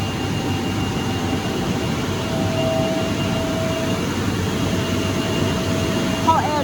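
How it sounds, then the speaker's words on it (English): A hot air drying blower on an industrial metal chemical cleaning machine gives a steady, broadband whooshing roar with a faint tonal whine, continuous and fairly close throughout. "Hot air drying section with blower."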